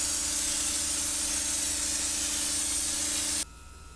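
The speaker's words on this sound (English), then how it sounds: "I have a 60-gallon air compressor there that does a great job for stuff like this." Raptor bedliner is sprayed onto a 1986 Toyota 4Runner with a gun fed by a 60-gallon air compressor. A loud, steady airy hiss runs close by, then cuts off abruptly, leaving a quieter background hum.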